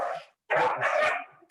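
Dogs barking indoors, a short cluster of loud close barks and yips after a brief first yelp, with no talk over them.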